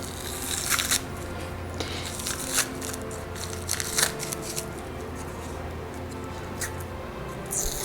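Plastic and sticky tape are peeled and pulled away from a paper mache terracotta-style Christmas bell, giving close crinkling rustles and several sharp crackling rips spread across the clip.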